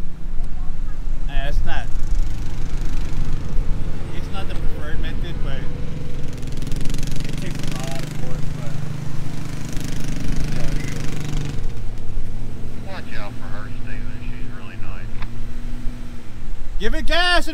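A Jeep's engine drones loud and steady while it pulls a stuck Ford F150 free, with the revs swelling at times. Several people shout and talk over the engine throughout.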